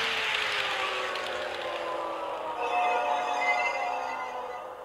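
Model ICE BR 407 Velaro D train slowing to a halt, a steady electric drive whine and broadband rush settling with a faint high tone emerging, alone and fairly even in level.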